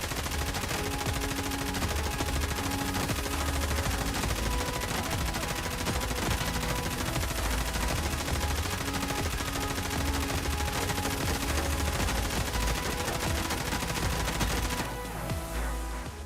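Sustained automatic fire from an M4 rifle in the game Escape from Tarkov, a loud continuous stream of rapid shots over about fifteen seconds that cuts off abruptly near the end.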